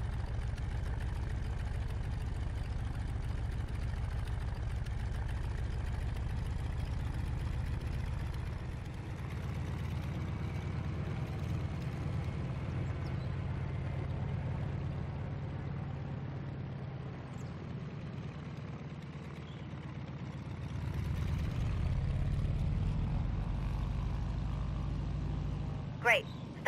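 Radial engine of a Boeing Stearman PT-17 biplane in Microsoft Flight, idling on the ground near a hangar: a steady, low droning rumble with a slight swell toward the end.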